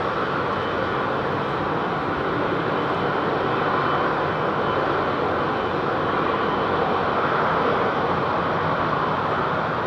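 A Turkish Airlines Boeing 787 jet departs London Heathrow, its engines giving a loud, steady broadband roar that holds unbroken throughout with no talk.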